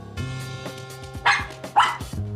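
Dogs barking at a doorbell, several sharp, close barks in quick succession with short yips between them, heard clearly and alone.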